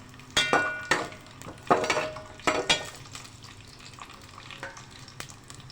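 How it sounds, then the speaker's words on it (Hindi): Coconut and almonds fry in a pan for sweet zarda rice, giving a soft background sizzle broken by several sharp utensil clanks and scrapes against the pan in the first three seconds, then quieter stirring. "अब ये खोपरा और बादाम फ्राई हो रहे हैं।"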